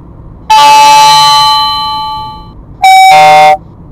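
A dashcam's electronic alert tone warning of a speed camera on the road: two loud, steady synthetic beeps, the first long and slowly fading, the second short, heard alone.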